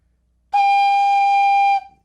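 A flute head joint blown alone with its open end covered, giving one steady, pure whistle-like tone held for just over a second, clear and close with no other sound.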